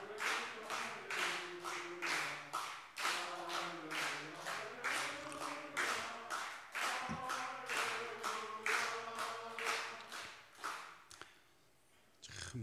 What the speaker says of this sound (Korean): 우리 박수합니다.